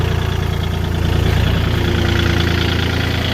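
A Kubota L4018SP tractor engine runs steadily at about 2000 rpm, a loud, continuous low diesel drone with no break or change in pitch.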